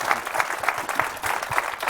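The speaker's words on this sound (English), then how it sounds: "Another round of applause for both Reid and Matt." Audience at a speaker-series talk applauding, steady clapping from many hands at moderate loudness throughout, without pause.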